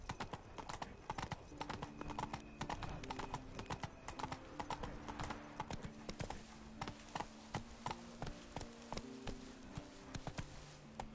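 Roach the horse's hooves beat out a fast, even clip-clop gallop in The Witcher 3, rhythmic and fairly close, running steadily under faint game ambience.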